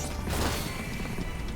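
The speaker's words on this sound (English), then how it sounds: "when they stagger and there's an explosion at the same time" A loud, dense crash-like burst fills a Final Fantasy XIII battle, a broad rumbling blast with clattering debris that holds steady for about a second and a half, with no talking.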